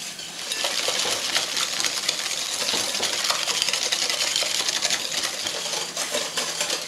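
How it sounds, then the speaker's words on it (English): Egg yolks and caster sugar whisked together in a bowl for creme brulee, a steady, dense scraping and clattering of the whisk that runs on without pause, close and fairly loud. "Now, whilst the milk is heating, I'm just going to whisk those together."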